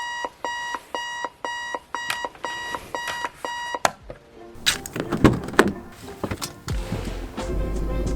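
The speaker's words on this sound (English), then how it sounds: "So there's this really old-fashioned alarm that's in my quarantine room." An old-fashioned mechanical alarm clock in a quarantine room rings in regular repeated bursts, loud and close, before a clattering of handling noises and knocks cuts it off.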